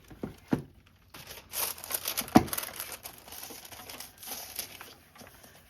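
Paper card trimmed to height for a window-envelope card project: faint crinkling and rustling with a couple of sharp clicks, quiet and close.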